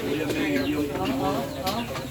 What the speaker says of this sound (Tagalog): Yung ibon.